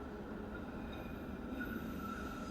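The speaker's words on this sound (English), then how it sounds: "He traveled via the novel Boston subway under a strange metropolis" Steady low rumble and hum of a Boston subway train running, continuous and even throughout with no distinct clatter peaks and no voices.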